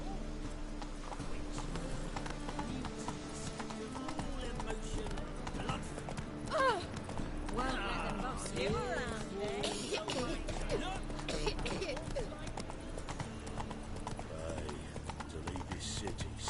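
Roach the horse galloping in The Witcher: Wild Hunt, a steady rapid clip-clop of hooves running continuously under game music and effects, with a voice speaking briefly.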